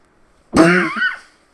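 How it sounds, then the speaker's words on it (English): One short, harsh cough or throat-clearing, close and loud, alone in otherwise quiet surroundings. "why am I coughing right now?"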